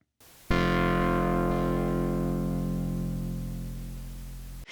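A single sustained Moog DFAM synthesizer note with delay and echo rings out loud and close, then slowly fades over several seconds, with no talk.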